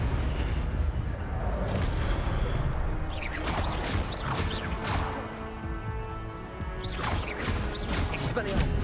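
Spell effects from Hogwarts Legacy, Expelliarmus and Incendio, crackle and burst in quick succession. They stay loud and busy against a dense game soundscape, and sharp bursts arrive near 3 to 5 seconds and again around 7 seconds.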